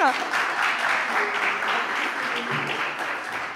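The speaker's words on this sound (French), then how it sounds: "Vous pouvez l'applaudir." Audience applause for Salim Ejnaini, an esports player on stage with his dog Uno, sounds as a steady, dense wash of clapping held for the whole stretch, moderately loud and without voices over it.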